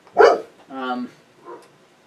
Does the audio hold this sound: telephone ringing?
no